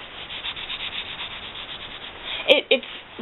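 Soft, steady rubbing of velvet shorts fabric close to the microphone, a brushing hiss that ends with a couple of sharper scuffs.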